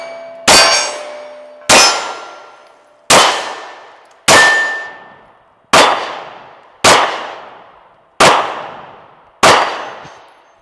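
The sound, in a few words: shots ringing steel Shooting Targets USA harmonic target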